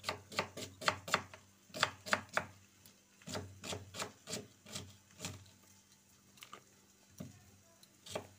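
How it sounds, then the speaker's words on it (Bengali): Onion being chopped with a knife on a board, a rapid series of close sharp chops in bursts with short pauses between. "আমি তাহলে পেঁয়াজটা কেটে নিই।"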